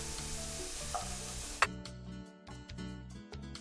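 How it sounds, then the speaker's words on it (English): Onions for a bolognese frying in a pan, a hissy sizzle for the first second and a half, then a sharp clatter and quieter crackling with soft ticks. "onions are ready to go crazy in the pan"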